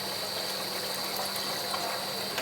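Water pouring steadily into a cooking pot to boil rice for chicken biryani, a continuous broadband rush and splash that holds evenly throughout at moderate level, with no talking.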